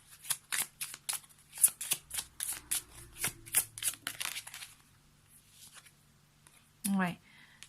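Tarot cards are shuffled in a quick series of crisp riffling flicks and slaps, close and clear, tapering off before someone speaks briefly at the end.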